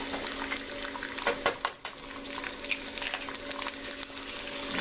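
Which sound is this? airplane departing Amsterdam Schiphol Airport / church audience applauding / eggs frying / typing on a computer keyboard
eggs frying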